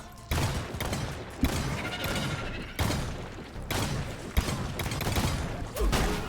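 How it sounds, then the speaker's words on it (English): Continuous gunfire from players shooting swarming bugs in the co-op shooter Deep Rock Galactic, a dense barrage of bursts with heavy thumps and booms running throughout without pause. "So I guess we're shooting some bugs."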